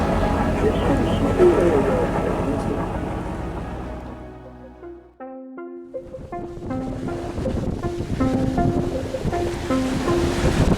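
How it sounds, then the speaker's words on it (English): Ocean water rushes and washes steadily against a sailboat motoring through calm, windless sea, with wind buffeting the microphone. A sustained tonal hum fades in and out partway through. "this is the ocean that it's okay to motor through"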